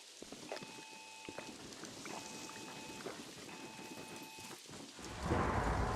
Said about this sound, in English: So we've got a severe thunderstorm that we can't do nothing about.